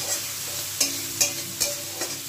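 Spice paste for koi fish curry frying in a pan over low flame, a soft steady sizzle with several brief stirring scrapes at regular intervals, close and moderately quiet, no talking.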